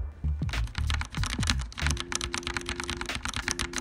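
Keystrokes on a mechanical keyboard with brown switches, a fast close-up burst of moderately firm taps with a faint steady hum under the later part.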